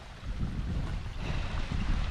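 Steady wind rushing and buffeting across the microphone on a Lake District fell, a broad continuous roar with gusty surges and no voices.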